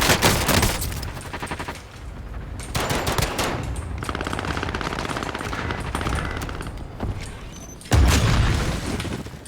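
Shooter video game combat with dense machine-gun bursts and booming explosions filling the whole stretch, loud and continuous, with a heavy blast near the end.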